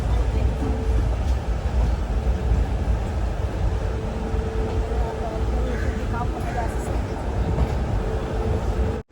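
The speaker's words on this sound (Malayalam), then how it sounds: "മൈസൂരു ജംഗ്ഷൻ റെയിൽവേ സ്റ്റേഷനിലേക്ക് നമ്മുടെ ട്രെയിൻ എത്തിക്കൊണ്ടിരിക്കുകയാണ്" The Rajya Rani Express rolls into Mysuru Junction from KSR Bengaluru, a continuous low rumble of wheels and carriages from on board, holding steady before cutting off abruptly.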